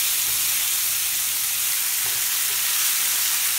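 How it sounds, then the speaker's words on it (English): Potato and bacon chunks fry in bacon grease, giving a dense, even sizzle close to the pan with faint scraping from a spatula stirring through it. No voices. "I'm going to stir this up with a spatula."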